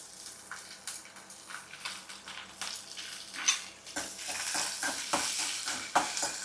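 Chopped onions, cashews and curry leaves fry in oil in a pan for coconut-free coriander rice, a close, steady sizzle broken by repeated stirring scrapes.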